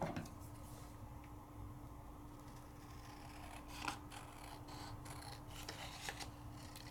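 Paper being trimmed for card making, a steady soft scraping cut running under a faint constant hum, with a couple of brief sharper ticks along the way.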